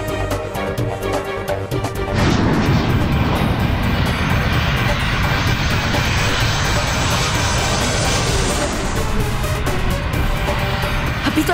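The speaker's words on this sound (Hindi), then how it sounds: "अभी तो पहिए भी नहीं खुले, फिर ये विमान नीचे क्यों जा रहा है?" An airplane descends with a loud, sustained jet engine roar, rising into a broad, steady whooshing drone that fills the scene for several seconds, heard close and without clear talk.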